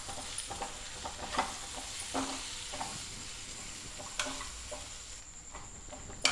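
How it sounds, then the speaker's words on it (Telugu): Pepper chicken fry sizzles steadily in a pan while being stirred, with soft scraping and light clinking strokes scattered over the constant quiet hiss. No one speaks. "బాగా కలిపేసుకుంటాం."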